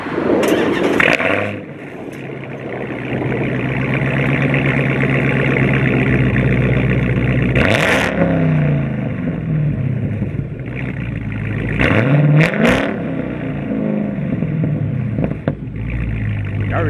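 A Dodge Hemi muscle car revs hard and loud up close, the engine roar rising and falling in repeated surges, with exhaust popping and crackling between the revs.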